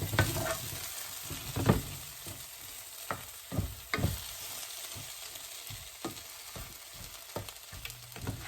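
Shepherd's pie meat mixture being stirred in a frying pan, with a steady sizzle beneath repeated scraping strokes of a utensil, close and moderately loud, no voices.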